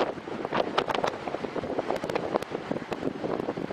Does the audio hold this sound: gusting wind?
yes